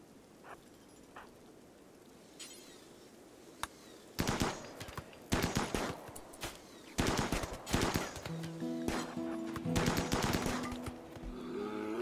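Rapid bursts of gunfire rattle out in a RimWorld colony fight, volleys shooting at a grizzly bear, starting faintly with scattered pops and then erupting into loud, clustered automatic fire that repeats in several waves.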